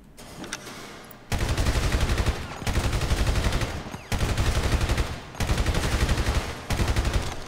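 Gunfire at a shooting range in the video game GTA 5: five loud bursts of rapid automatic fire, each lasting a second or more and separated by brief pauses, with no voices.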